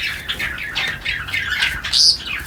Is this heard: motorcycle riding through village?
no